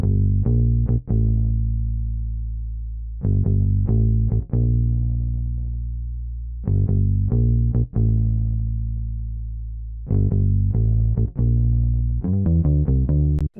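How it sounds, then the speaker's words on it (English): A jazzy bassline from the Contact instrument plays alone, with deep sustained low notes that ring and decay, broken by short plucked runs and ending in a quicker flurry of notes, clear and close. "Then I went to this bass, really good bass in Contact"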